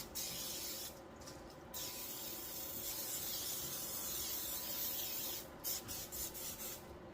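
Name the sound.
cooking spray sprayed onto baking dish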